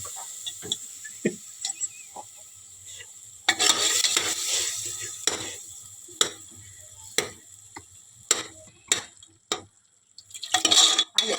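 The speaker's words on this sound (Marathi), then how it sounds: "फोडणी दिला अरे फोडली बघ" Spices crackling and popping in hot oil for mutton curry, with onion, coconut and garlic, a burst of sharp sizzling pops at irregular intervals over a quieter background.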